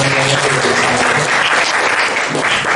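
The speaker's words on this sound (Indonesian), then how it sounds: "kita berikan aplaus untuk perwakilan" An audience at a teacher training seminar on differentiated learning breaks into sustained applause, a loud, dense wash of many hands clapping that stays steady for nearly three seconds.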